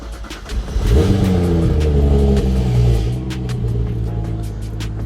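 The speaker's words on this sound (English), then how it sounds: "So I'm gonna start the car up. Hey, you get to hear a cold start." A BMW 1 Series or 3 Series engine cranks and catches on a cold start, then revs up loudly and settles into a fast, rough idle close by.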